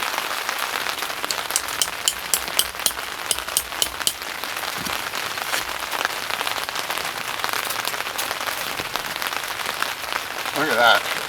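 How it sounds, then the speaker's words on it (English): Steady rain patters on a surface at a campsite, with a dense hiss of drops and a few sharper taps early on, close and continuous. "then we're going to pack up this site in the rain"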